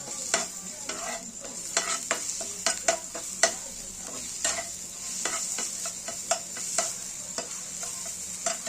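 Onion frying in oil with ginger-garlic paste, stirred by hand with steady sizzling, and sharp scraping clicks of a spoon against the pan come in an irregular rhythm. The sound is close and moderate, with no talking.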